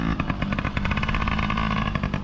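A kids' motorcycle engine held at steady revs during riding training, a close, continuous buzzing drone with a rapid pulsing rhythm and slight rises in pitch.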